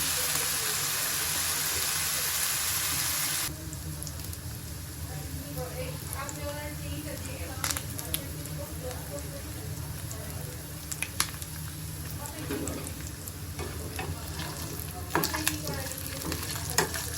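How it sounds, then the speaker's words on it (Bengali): Meat for pizza fries in a pan on a gas stove, giving a steady close sizzle with occasional stirring scrapes and crackles, loud at first and then settling into a softer, continuous hiss. "পিজার জন্য মাংসটা ভেজে নেব।"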